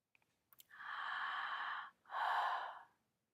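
Two long, slow breaths during an integrative breathing exercise, close and soft, each a breathy rushing sound lasting over a second with a short pause between, preceded by a few tiny clicks.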